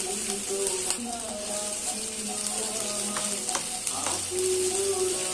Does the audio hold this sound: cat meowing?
no